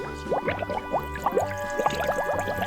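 Soapy bathwater gurgles and pours out of a small toy. The quick burbling, dripping splashes come close up and continue in an unbroken stream.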